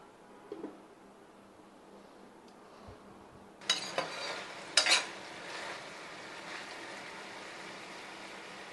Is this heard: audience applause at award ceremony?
no